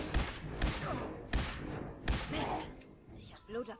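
Gunfire from Fallout 4 survival mode: four strong, evenly spaced shots roughly every half-second, each a sharp booming thud, followed by a lighter rustling tail and faint in-game sounds.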